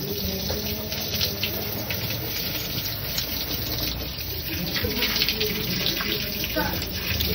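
Water splashes and patters steadily while a king cobra is bathed and washed in a container during hot weather. The continuous close-up sloshing and trickling sits under a faint voice.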